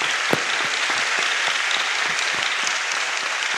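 A standing church congregation claps enthusiastically, a dense, even wash of many hands with no break throughout.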